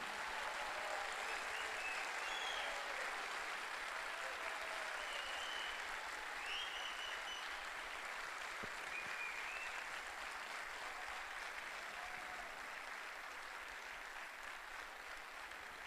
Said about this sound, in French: Donc à vous de les applaudir